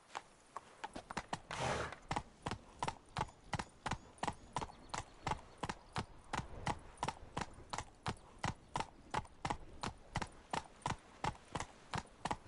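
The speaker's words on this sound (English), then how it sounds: "Not so fast, Roach." Horse hooves galloping in Witcher 3, a rapid, even clip-clop rhythm that is loud and close, with a brief whinny early on and no talk.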